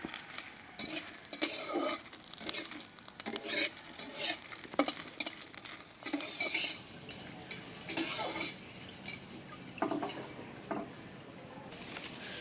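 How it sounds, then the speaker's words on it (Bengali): Chillies and garlic stir-fry in a pan, with a low sizzle broken by repeated scraping and clinking strokes of a utensil against the metal at an uneven rhythm. "মরিচ রসুন ভাজা হয়ে গেছে উঠাই নেই"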